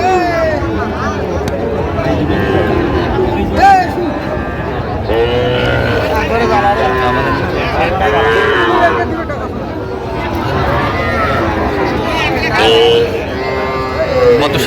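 Sahiwal cattle moo loudly and repeatedly, close by, while people talk in the background throughout.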